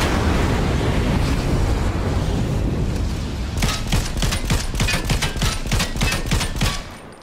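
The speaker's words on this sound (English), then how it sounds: "I'm getting this and shooting it from distance." Video game gunfire: after a few seconds of steady rumbling background, a rapid burst of sharp shots rings out in an even rhythm, loud and close, then stops.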